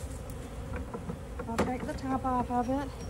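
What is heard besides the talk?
honey bees buzzing around swarm box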